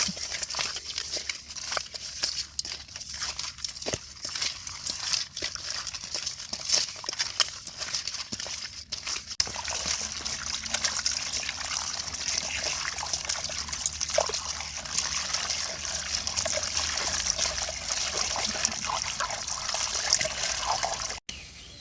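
Snakehead fish being rinsed in water, a continuous close trickle and splashing of running water with small drips and handling noises throughout, no talk.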